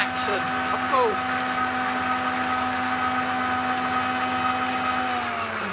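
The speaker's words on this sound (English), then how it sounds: "It is a very nice whisk action on this, to be honest. Rotary planet action, of course." A stand mixer whisks with planetary rotary action, a steady motor whine and churning hum running continuously at close range, with a voice speaking over it.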